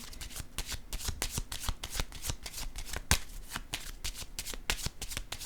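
Tarot cards handled during a reading, a rapid run of crisp flicking and slapping card sounds, close and continuous for several seconds, with no clear talking.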